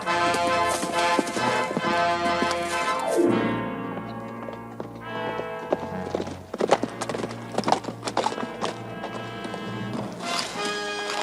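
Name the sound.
horses trotting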